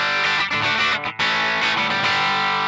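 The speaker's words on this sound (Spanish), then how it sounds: "Vamos con el número 5, que es un Twin Reverb de la marca igual Fender. Vamos a escucharlo." Electric guitar played through a Fender Twin Reverb amp model on a NUX MG30 multi-effects unit, a full, distorted chord-driven tone with a brief drop-out near the middle, loud and alone with no talk.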